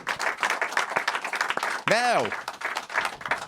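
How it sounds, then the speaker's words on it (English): A studio audience on a TV show claps in a quick burst under a host's talk, the patter fading behind a short word and a brief whooshing tone. "Give him a round of applause, everybody."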